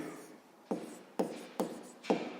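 A pen or pencil writes numbers on paper in four or five short, scratchy strokes, close and quiet, with small pauses between them.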